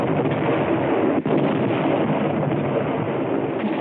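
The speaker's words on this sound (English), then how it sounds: "and mortars, with hand grenades, and gasoline bombs." Battlefield mortar and grenade fire rumbles as a dense, continuous roar of blasts and low booms, with one brief sharp dip and crack partway through. The sound is loud, muffled and band-limited, like an old war recording.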